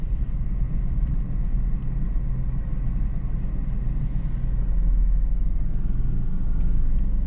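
A car passes nearby on a street during parking practice, heard as a steady loud engine and tyre rumble that swells slightly toward the end, with no talking.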